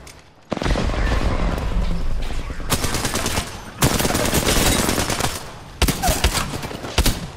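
Dense bursts of video game gunfire, sustained rapid automatic shooting that cuts in and out in loud volleys with brief gaps between them, close and heavy throughout.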